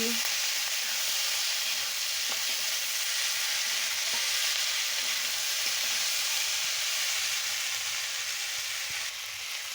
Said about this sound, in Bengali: এবার আমি কাঁচা লঙ্কাটা দিয়ে দিচ্ছি দিয়ে ভালো করে কষাচ্ছি